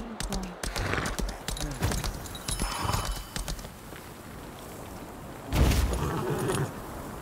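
Horse hooves clip-clop in the online game Lost Ark, a steady run of hoofbeats mixed with buzzing ambient insects and a louder thump near the end, heard with no talk.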